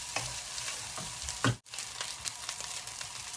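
Rice frying in oil in a pan for a simple fried rice, a steady dense sizzle with occasional stirring scrapes and a brief dropout midway, close and fairly loud with no talking.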